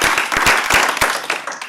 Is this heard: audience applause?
yes